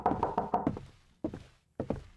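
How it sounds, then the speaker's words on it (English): Insistent knocking on a door in the indie horror game The Pizza: a quick burst of about five raps, then two more separate knocks after pauses, close and fairly loud with no voices. "Very insistent knocking."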